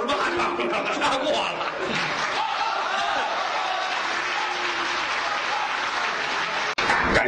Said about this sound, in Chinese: 感谢朋友们的掌声鼓励